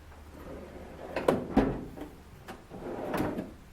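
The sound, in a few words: tool box drawer opening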